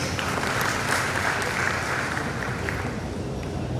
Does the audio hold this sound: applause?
yes